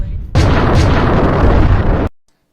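A potato cannon fires in one loud, close blast that roars for nearly two seconds before cutting off abruptly into silence.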